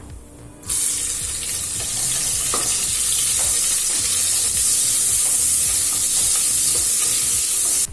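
A large sliced onion hits hot oil with cumin and sets off a loud, steady sizzle that keeps going, with occasional stirring scrapes.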